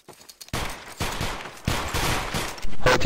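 Musket volleys in the game Battlegrounds 2 during a line battle: several loud, crackling ragged volleys in quick succession, each a burst of overlapping shots with a rumbling tail, close and dense, no talking.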